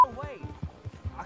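Rhythmic hoof clip-clops of a horse in a video game, a steady series of soft, close thuds with game sounds and talk over them.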